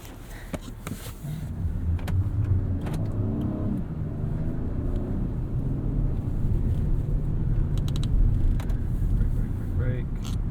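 Acura MDX driving on Bridgestone Alenza AS Ultra all-season tires, a continuous low road and engine rumble heard from inside the cabin, with people talking and a few clicks over it.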